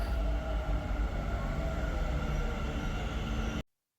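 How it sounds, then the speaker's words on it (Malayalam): A Bangalore metro train pulls into an underground station, a loud, steady rumble and whine of wheels and motors filling the platform before the sound cuts off abruptly. "ചിന്തിക്കുന്ന ഗ്യാപ്പിൻ്റെ ഉള്ളിൽ തന്നെ വേറൊരു മെട്രോ വന്നു"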